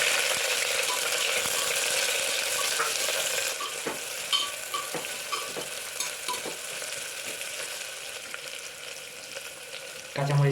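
Chopped onions hit hot oil in a curry pot with green chilies, dried chilies, cardamom and cloves, a loud dense sizzle that settles into steadier frying with repeated spatula scrapes and clicks, close up.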